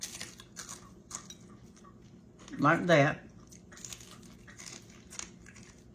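Someone bites and chews the crispy fried tail fin of a fish, one short, quiet crunching burst between soft spoken comments.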